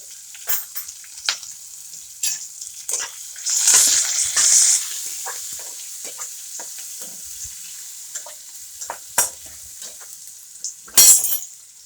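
Chopped tomatoes and turmeric stirred into frying onions for a stuffed okra dish give a soft sizzle broken by irregular spoon scrapes and clinks against the pan, with a brief louder hissing burst partway through.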